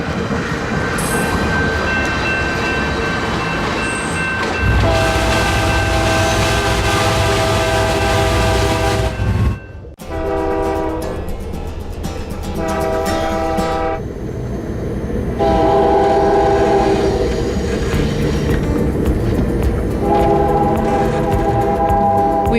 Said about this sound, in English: I'm on board the Canadian, the historic train that travels back and forth between Vancouver and Toronto 3 times a week